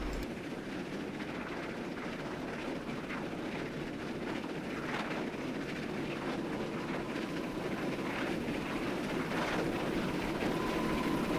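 A double-header train rumbles along the rails, a steady mid-distance roll with faint clickety-clack and a brief horn-like tone near the end, no voices.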